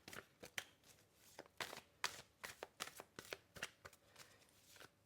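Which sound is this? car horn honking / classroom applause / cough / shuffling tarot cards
shuffling tarot cards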